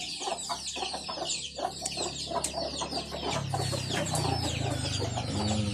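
Chickens clucking close by at a rural village farm in Isan in the evening, a dense continuous chatter of clucks and squawks with birds and insects in the background, growing busier near the end.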